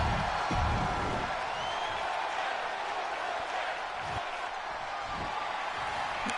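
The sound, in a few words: crowd cheering in WWE 2K22 video game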